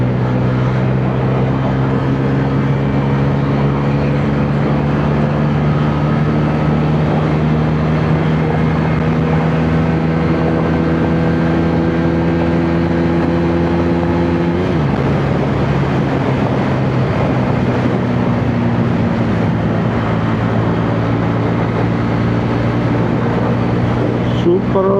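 A Bajaj Pulsar N160 motorcycle engine hums steadily while riding, its tone holding and then dropping at a gear change, against wind noise, with talk over it.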